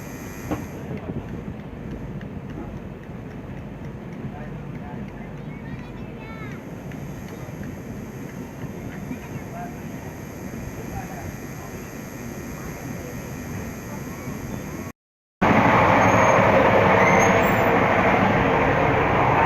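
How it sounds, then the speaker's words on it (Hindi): The Swarn Shatabdi Express runs on from Phaphund toward Kanpur Central, heard from inside as a continuous, steady rumble and rattle, with a brief cut before a louder, brighter stretch. "अपने 1 मिनट के हॉल्ट के बाद फाफुंद से भी डिपार्चर ले लिया है हमारी ट्रेन शताब्दी ने"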